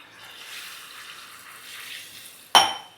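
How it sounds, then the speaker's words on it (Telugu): A glass of water splashes into a pot of baby potatoes being boiled for a tomato curry, a soft running pour that ends in a sharp, loud splash and clatter. "గ్లాస్ వాటర్ వేసాను కదండి"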